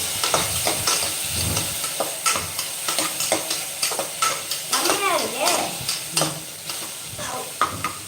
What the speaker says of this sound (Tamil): ஒரு ரெண்டு ஸ்பூன் சேர்த்துருக்கேன் இஞ்சி பூண்டு பேஸ்ட் இதே நல்லா வதக்கிக்கலாம்